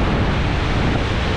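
Storm waves pound the shore at Crystal Beach during a seiche that floods nearby houses, a loud, dense roar of surf mixed with heavy wind buffeting, with no voices.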